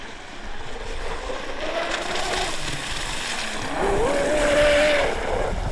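A small electric motor of a Proboat Veles 29 RC speedboat on a 6S battery whines over water with steady wash and splashing, its pitch rising sharply as the throttle opens, then holding a high tone.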